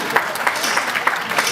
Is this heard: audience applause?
yes